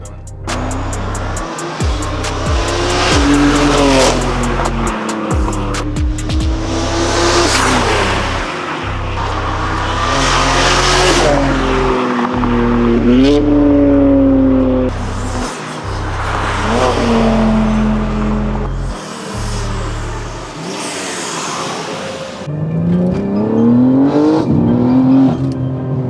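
An all-wheel-drive BMW accelerates hard through gear after gear, its engine loud and close as it climbs and drops in repeated rising sweeps, with a brief lull near the end and voices faintly underneath.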